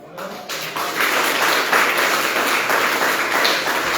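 A church congregation breaks into sustained, dense clapping during a sermon, the applause swelling after a brief quiet start and holding loud and steady to the end.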